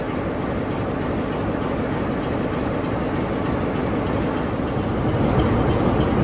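Transport for Wales train running through a station at Chester or Warrington, a loud steady engine roar and rail rumble that holds for several seconds.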